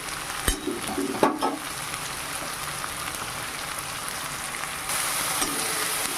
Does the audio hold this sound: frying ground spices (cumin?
yes